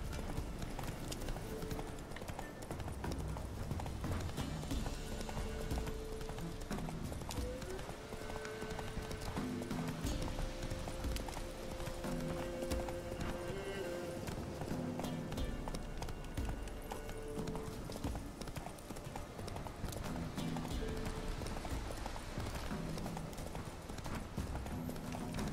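Continuous clip-clop of horse hooves at a steady trot in The Witcher 3: Wild Hunt, under a dense layer of game music and ambience, lasting throughout.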